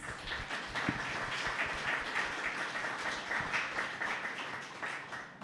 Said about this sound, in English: round of applause for our panel before our questions